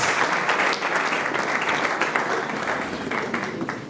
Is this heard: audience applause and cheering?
yes